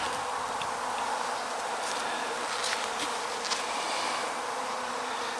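Bees buzzing inside a hive box, a dense continuous hum, close and loud, steady throughout with no voices.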